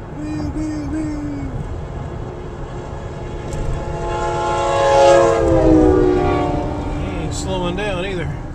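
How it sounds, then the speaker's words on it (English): A train rolls past with a long, loud horn blast sweeping up and down in pitch over steady rumbling wheels, swelling nearer midway, while people talk faintly in the background. "the train's coming."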